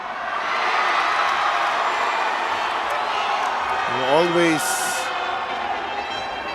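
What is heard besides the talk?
home crowd cheering at a basketball game in Batangas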